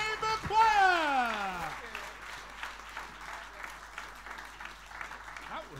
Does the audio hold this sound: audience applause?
yes